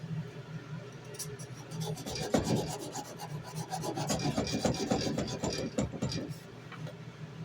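Hand sanding wood with cheap sandpaper, a steady rasping scrub with rhythmic back-and-forth strokes, close and moderately loud throughout with no talking.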